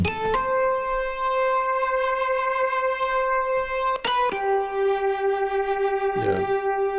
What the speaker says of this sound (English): This is the distortion on the organ.